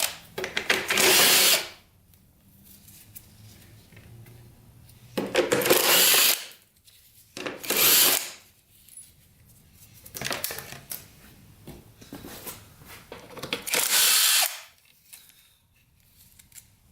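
A power drill zips in short bursts while removing the radiator from a vintage dirt bike, five separate whirring runs of a second or so each, separated by quiet pauses with faint handling.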